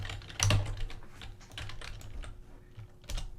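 Close keystrokes tap on a computer keyboard in an irregular run, including one sharper key press near the start, with no talking.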